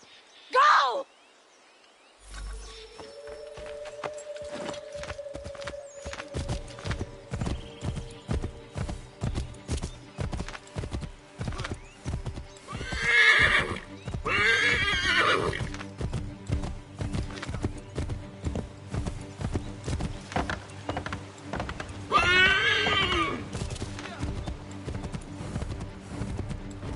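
Rhythmic hoofbeats clop steadily for most of the clip in Assassin's Creed III Remastered, punctuated by two or three loud horse whinnies; a voice speaks briefly near the start over game ambience.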